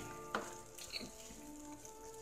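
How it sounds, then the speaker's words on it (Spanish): Steak with spices sizzles softly in a frying pan as it is stirred, with a low continuous frying hiss and a couple of light utensil scrapes, faint and close. "vamos a mover esto para que agarre el saborcito de las especias que huelen así"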